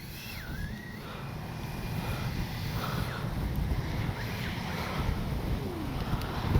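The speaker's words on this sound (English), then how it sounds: "It's awfully windy." Steady, roaring wind buffets the microphone throughout, a broad low rumble that swells slightly louder toward the end, with no voices.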